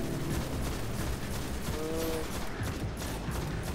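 Gunfire in a first-person shooter video game: rapid shots blended into a dense, continuous roar of combat noise with a brief tonal whine midway, loud and steady throughout.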